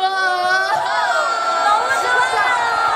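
A festival crowd at a Seoul National University engineering college festival shrieks and cheers for the K-pop group UNIS, a loud, continuous mass of high-pitched screams and whoops with individual voices rising out of it.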